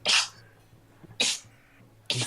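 A sneezing fit that sounds like a cat, three sharp, breathy sneezes spaced about a second apart over a low steady hum, close and fairly loud with no talk.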